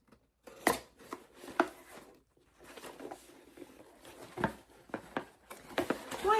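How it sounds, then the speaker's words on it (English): Small scissors snip and slice open a cardboard subscription box up close, sharp separate cuts and scrapes with short pauses, the strokes bunching together toward the end, with no talking. "Got my little scissors."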